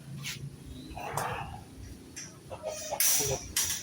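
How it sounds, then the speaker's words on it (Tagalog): Chickens cluck and squawk in short bursts close by, with scattered outdoor noise around them. "Pakain din ng mga manok."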